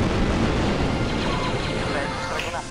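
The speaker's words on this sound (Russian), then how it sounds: "Взрываем." A big explosion in the Star Wars Republic Commando video game, a loud sustained roaring blast with rumbling debris that fills the clip and slowly tapers toward the end.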